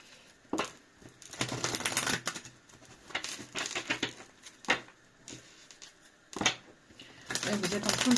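Tarot cards shuffled in a run of crisp papery riffles and slides, moderately close, coming in bursts with short pauses between them, over a faint background.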